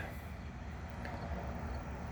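Southbound CN oil train U762-41, a long line of heavy freight cars hauled by CN ET44AC, SD70M-2 and ES44DC locomotives, rolling past as a steady low rumble with continuous wheel and rail noise.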